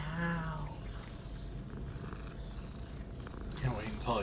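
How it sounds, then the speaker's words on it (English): A cat purring in a video game, a low continuous rumbling purr close up, with a brief meow-like tonal call at the start and another near the end. "Oh, that's a pretty kitty."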